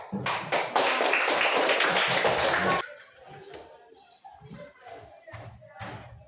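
Group of pupils clapping in unison to a classroom clap chant, a dense burst of applause-like claps at the start followed by quieter scattered taps and voices.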